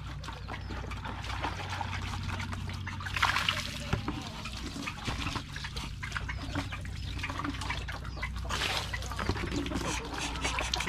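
Water trickles and splashes steadily into a bucket, filled to water a goat, with faint background noise and a few brief bird-like chirps.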